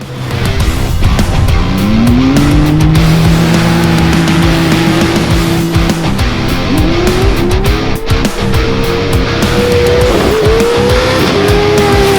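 An off-road race car at the Bencubbin 2022 event roars loudly and close for the whole stretch, its engine pitch climbing and dropping through gear changes over constant rough noise.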